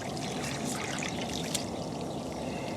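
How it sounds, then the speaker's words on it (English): Water runs steadily from a tap, a constant hissing and splashing stream at even level throughout, with no talk over it. "I'm going to shut the water off"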